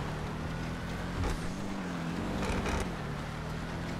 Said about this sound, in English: The car sounds actually crazy from the inside.